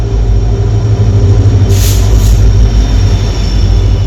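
A train arriving at a station on the Dhemaji to Gohpur line in Assam makes a loud, close, continuous low rumble, with a brief hiss of brakes partway through.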